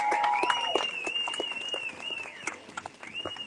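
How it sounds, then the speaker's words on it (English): A protest crowd gathered over 15-minute city plans applauds a speaker, with steady outdoor clapping and a few whistles or cheers threaded through, moderately loud and fading slightly toward the end. "A round of applause for Fiona."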